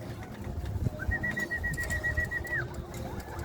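A racing pigeon released during a club race lap, with a steady high whistle-like tone drawn out across the middle of the clip over busy low outdoor noise and rumble.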